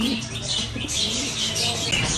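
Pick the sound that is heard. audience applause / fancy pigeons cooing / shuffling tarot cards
fancy pigeons cooing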